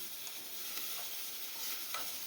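Onions frying in a pan are stirred, producing a soft, continuous sizzle with a few faint scraping stirs close by and no voices.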